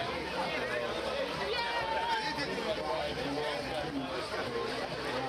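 Crowd chatter in many languages at a para surfing world championship, a dense continuous babble of overlapping voices outdoors, steady and fairly loud with no single voice standing out.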